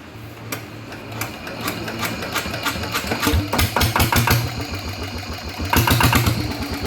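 A Yamaha RT 100 motorcycle engine with a damaged valve kicks to life and idles with a rapid, uneven tapping putter, moderately loud and close, with the beat picking up slightly toward the end.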